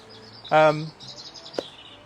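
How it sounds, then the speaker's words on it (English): A single loud, harmonic bird call bursts out briefly, followed by a faint high chirp and a sharp click; quiet background otherwise. "That's a loud bird."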